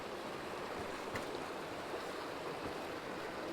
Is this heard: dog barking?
no